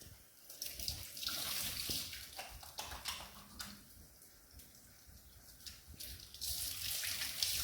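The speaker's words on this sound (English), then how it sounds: "we've washed our hands" Hands are washed under a running kitchen tap, a close, continuous splashing hiss that shifts as the hands move through the stream, with no voices.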